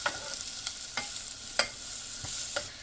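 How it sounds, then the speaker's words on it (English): Onions are stirred in a pan with a wooden spoon, giving sharp clicks and scrapes at irregular intervals over a soft background sizzle, close and alone with no talking. "I'm going to use my wooden spoon to do this. And then I'm just going to mix it together."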